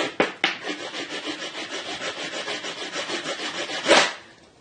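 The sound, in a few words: wood rasp filing hardened epoxy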